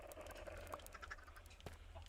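Chickens in Minecraft give soft, scattered clucks and short squawks over a faint background hum, quiet and a little distant.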